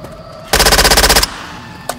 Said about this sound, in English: it's a machine gun